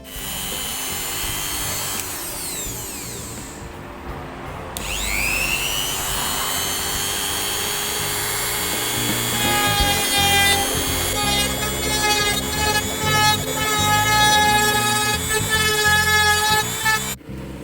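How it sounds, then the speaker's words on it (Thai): Power drill boring a hole while a USB socket is fitted to a 2019 Honda CB500X motorcycle, a loud steady whine that rises in pitch and holds with shifting tones, close and sustained without talk. "ก็เจาะรูเรียบร้อยแล้ว"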